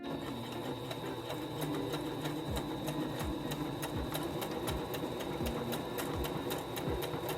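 A second-hand sewing machine runs steadily through a chain stitch, its rapid even mechanical ticking and motor hum continuing loud and close for the whole stretch with no voices.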